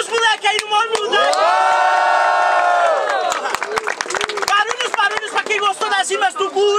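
Crowd at a street rap battle cheering and shouting for the MCs, a dense roar with whoops and scattered claps, loud and close throughout.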